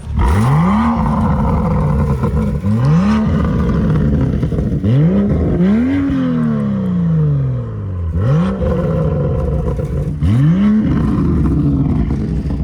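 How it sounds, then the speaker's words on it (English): A BMW M2 F87 with factory burble tune, in traction mode, revved repeatedly: six sharp, loud blips rise and fall, one held longer and sliding down, each followed by crackling exhaust burbles as revs drop. "if you want more burbles, all you have to do is push the ESC off button once, then you're in traction mode, and when you rev it now"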